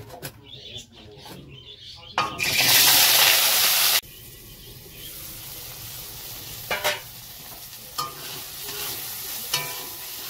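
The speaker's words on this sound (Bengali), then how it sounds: "ওই কড়াতেই নিম বেগুনটা ভাজা করবো।" Neem leaves and eggplant go into a hot wok, bursting into a loud, bright sizzle for a couple of seconds before settling to a softer hiss with scattered stirring clinks, close by.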